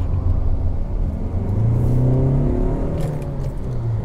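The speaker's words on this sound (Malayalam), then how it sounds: "സിവിക്ക് നമുക്ക് ഓടിച്ചു നോക്കാം, നല്ല കാലം കൊടുത്ത് ഓടിച്ചു നോക്കാം." Honda Civic diesel car driven hard on a test drive, its engine rumbling and revving with rising pitch sweeps, a loud steady interior drone with no talk.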